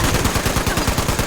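Rapid automatic gunfire from a weapon in the online game Fallout 76, a loud, continuous burst of closely spaced shots with no talking.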